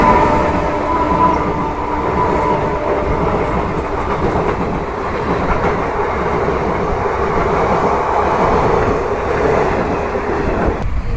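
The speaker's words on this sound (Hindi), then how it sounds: "देखो ट्रेन आने वाली है" A train rolls steadily past at close range with a continuous loud rumble and a clickety-clack of wheels on rails, lasting the whole stretch with no talk.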